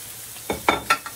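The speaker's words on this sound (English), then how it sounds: "we're gonna go ahead and sear the roast before we go ahead and put it into the crock pot" A seasoned roast laid into a hot pan for searing before going into a crock pot: a few quick hissing, sizzling bursts close up, each short and sharp.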